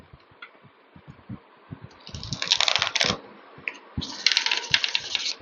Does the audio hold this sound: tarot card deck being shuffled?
yes